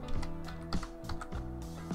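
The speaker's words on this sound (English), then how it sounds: "Hit the enter key once." Keys clacking on a computer keyboard as an ipconfig release command is typed, a few quick irregular taps over a steady background hum.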